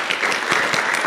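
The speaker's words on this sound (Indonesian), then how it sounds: "upline saya Ibu Katarina dan Dr. Budi, tepuk tangan untuk beliau Bapak Ibu." An audience at a motivational seminar applauds, giving a brief, loud burst of dense clapping with no voices over it.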